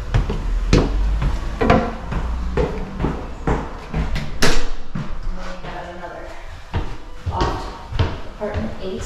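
The apartment door of an Airbnb in Helen, Georgia, shuts among a string of nearby thuds, clunks and footsteps, with one sharp knock standing out midway, while people talk throughout.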